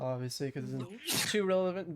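One quick sneeze breaks into a person's talking during a Dungeons & Dragons tabletop session, a short loud burst sitting between spoken words.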